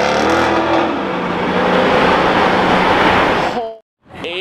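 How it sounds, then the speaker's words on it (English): A Mercedes-AMG C63 Black Series pulls away with a loud, sustained engine roar that swells steadily over several seconds, then cuts off abruptly as it leaves, with brief voices near the end. "C63 Black Series. It's leaving now."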